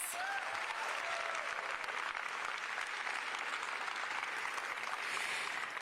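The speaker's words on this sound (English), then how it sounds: "Again, a big round of applause for Mayor Karen Bass." Steady, dense clapping from a large crowd at a Los Angeles event celebrating the Olympic flags' return, loud and sustained throughout with no pauses.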